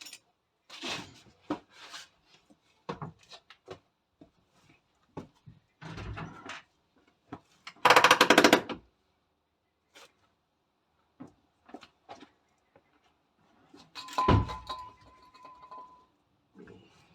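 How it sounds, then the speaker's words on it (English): A Jaguar Mk2's handbrake is tried, giving scattered mechanical clunks and clicks with one loud ratcheting burst in the middle and a sharp metallic clunk near the end, separated by quiet gaps. "we'll just go and try the handbrake now."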